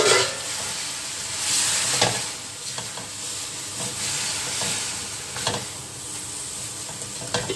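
Carrot and jicama stirred in a hot pan for lumpiang sariwa, a steady sizzle with scraping strokes of a utensil repeating close by, no voices.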